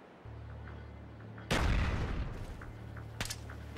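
A frag grenade explodes in a Call of Duty deathmatch on Nuketown: one sudden loud boom after a low hum, decaying over about a second, then a second sharper crack of gunfire-like noise, with no talk.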